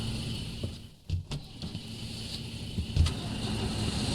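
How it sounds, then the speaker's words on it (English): Truck in the video game Foxhole, a moderate engine hum and mechanical whir with a few sharp clunks and bumps, fairly steady and close. "Hey, that's my truck."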